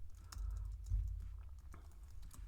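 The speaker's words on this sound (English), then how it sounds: "we could type whatever info here" Steady typing on a computer keyboard while filling in project details, a close run of soft, quick key taps over a low background hum.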